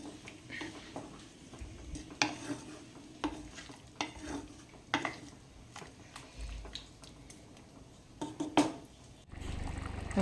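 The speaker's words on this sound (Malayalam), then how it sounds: "അങ്ങനെ കറി തിളച്ച് വന്നിട്ടുണ്ട്" Mutton gravy bubbling in a pot, a soft continuous simmer broken by scattered clinks and stirring knocks of a spoon against the pot, fairly faint with no talking.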